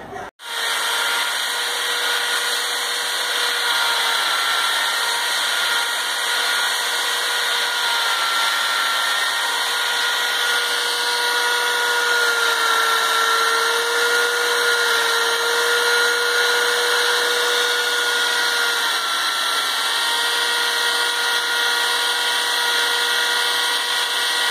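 A power drill bores holes in a wooden chair frame being prepared for Indian cane weaving, running as one loud, steady whine for nearly the whole stretch with a slight pitch wobble midway.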